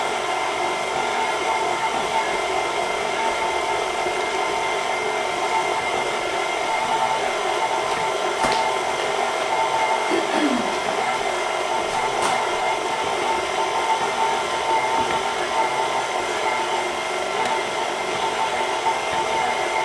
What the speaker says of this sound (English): you can hear the mixer like start to have a little bit of a lag